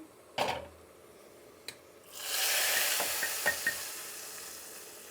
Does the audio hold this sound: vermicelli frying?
yes